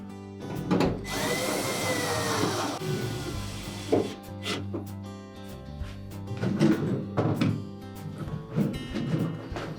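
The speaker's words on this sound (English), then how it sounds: "Push it into an upright position and reinstall the retaining screws." A power screwdriver drives retaining screws back into a refrigerator's evaporator fan air chute, with several short bursts of whirring and clunks of plastic parts being handled close by.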